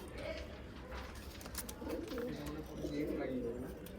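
Pigeons at a pigeon sale in Ichapur, West Bengal, coo softly and repeatedly in low murmuring phrases, close by, against a steady background of chatter and room noise.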